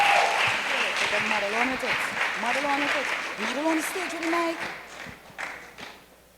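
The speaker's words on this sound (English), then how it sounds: "lusty round of applause." Sustained clapping from a gala audience at the Creative Arts Centre runs under a prominent voice that rises and falls over it. The applause thins and fades out toward the end.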